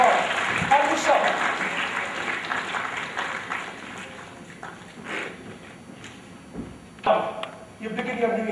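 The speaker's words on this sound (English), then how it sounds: "a big round of applause" Audience applause at an IT CEO meeting, strongest at the start and thinning out over several seconds into scattered claps, with a few voices and stray knocks near the end.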